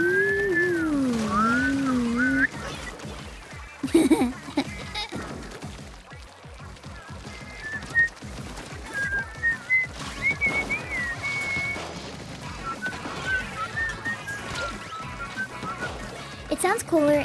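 A person imitates a weird UFO noise by whistling inward, producing wavering, sliding pitched tones in short bursts, interspersed with their own talking and laughter close to the microphone.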